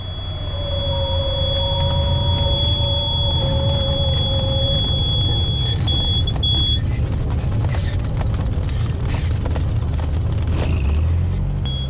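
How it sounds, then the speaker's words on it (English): A small airplane sets down on a snow-covered airstrip, its engine a loud, steady drone running the whole time, with thin whining tones riding above it. "Here we're landing at the snow-covered airstrip."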